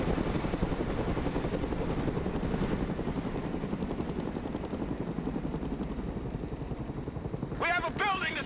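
A Chinook helicopter in the video game Broken Arrow drones with a steady, dense rotor thrum under continuous low engine rumble, filling the whole stretch, with a brief sharper chirping burst near the end.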